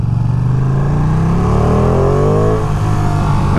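A 2023 Ducati Panigale V2 engine revs hard and loud up close, pitch climbing steadily as the bike accelerates on city roads, then dropping slightly as it shifts, with no talk over it.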